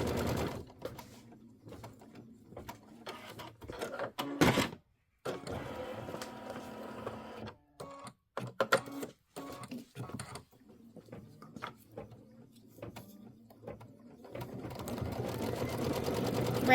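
A sewing machine stitches quilt blocks for small mini quilts in close, loud bursts of rapid whirring, stopping and starting repeatedly with short pauses between runs.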